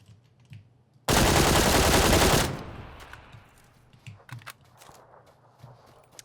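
A Mini rifle firing in PUBG, a dense burst of rapid gunshots lasting about a second and a half, followed by fainter scattered cracks and footsteps.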